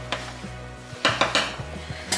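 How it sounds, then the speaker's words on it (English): Metal spoon knocking and scraping against the side of a pot while stirring salted water at a rolling boil on the stove, several distinct clinks and clatters close up, no talking. "You want to give your water a stir"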